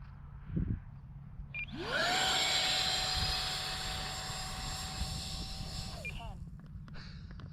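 An E-flite Habu SS RC jet's electric ducted fan rises into a loud sustained whine as reverse thrust brakes it, holding for about four seconds before winding down, with faint voices around it.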